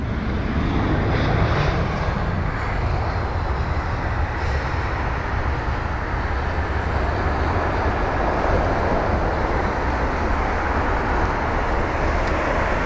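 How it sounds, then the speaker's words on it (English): A Finnair Airbus A320-200 jet at London Heathrow gives a loud, steady broadband engine roar that holds without a break throughout, with no voices. "this is the Finnair aircraft from Munich, so an A320-200 with flight number BA949"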